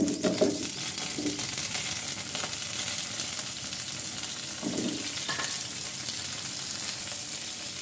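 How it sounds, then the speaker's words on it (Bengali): Cut potato pieces drop one by one into hot oil in a pan on the stove. A continuous loud frying sizzle carries several short, bubbling bursts as each piece goes in. "এখন আগে থেকে কেটে রাখা আলুগুলো এক এক করে আমি দিয়ে দিব।"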